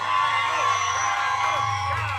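A gala audience cheers and whoops in a dense, steady wash of voices and yells, loud and close, with applause mixed underneath throughout.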